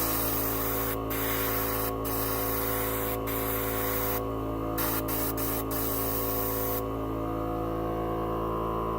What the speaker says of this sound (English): So I can see some paint, but it's not spraying the way I wanted it to.